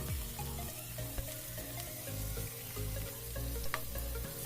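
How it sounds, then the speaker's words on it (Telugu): Chopped onions frying in hot oil for an aloe vera curry, a steady crackling sizzle with occasional clinks and stirring sounds, fairly close and continuous with no talk. "ఉల్లిపాయ కొంచెం లైట్గా వేయించుకోవాలి, కొంచెం బ్రౌనిష్ కలర్ వచ్చేలాగా."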